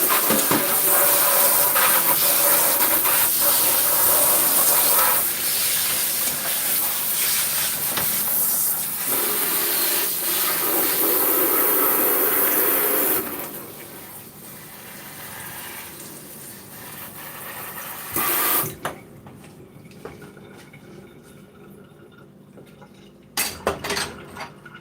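A pot is rinsed under a running tap while cooking chili: a loud, steady rush of water hisses for about half the time, then drops away, leaving scattered metallic clanks and knocks of the pot.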